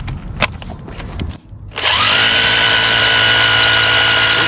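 A power drill bores a hole about 2.5 to 3 inches deep for a ferro-cement water tank, starting after a few short knocks and then whining loud and steady at close range.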